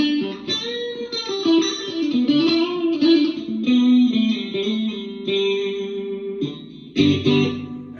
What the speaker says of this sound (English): It's kind of it's pretty heavy twin reverb kind of sound.